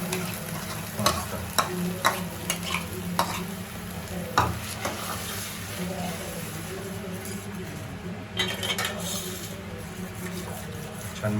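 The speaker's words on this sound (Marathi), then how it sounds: "हे बघ भाजी त्याच्यात पालकची प्युरी घालायची." Palak chicken, a chicken curry with spinach puree, sizzles in a pan while a spoon stirs and scrapes it with occasional clinks, close and steady throughout.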